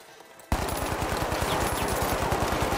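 Rapid automatic turret fire in the video game The Finals bursts in suddenly after a short quiet moment, then hammers on loud and close as a continuous rhythmic stream of shots.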